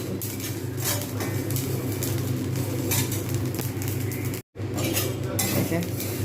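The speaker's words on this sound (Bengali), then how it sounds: "ভাজা হচ্ছে কত সুন্দরভাবে ভাজা হচ্ছে এরকমভাবে ভাজতে হবে লাল করে ভাজতে হবে" Rice dry-fries in a pan over the stove for homemade laddus while a spatula keeps scraping and stirring, giving a steady, close, gritty rustle with soft metallic clinks and a brief break partway through.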